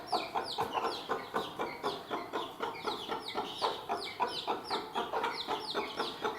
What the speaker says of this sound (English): And she's squawking away at it.